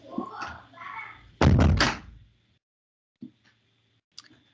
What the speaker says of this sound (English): I will just close the door.